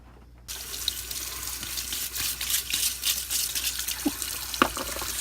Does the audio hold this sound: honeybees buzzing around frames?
no